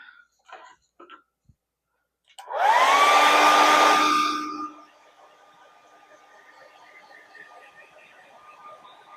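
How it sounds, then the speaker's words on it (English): A blow dryer switches on with a rising whine and runs loud for about two seconds to dry an engraving, then drops to a faint lingering hum. "maybe I will speed it up with my blow dryer"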